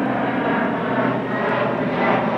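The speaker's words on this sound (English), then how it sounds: "The aeroplane flying overhead." An aeroplane flies overhead above a garden with bulb beds, a loud, steady engine roar filling the air without pause.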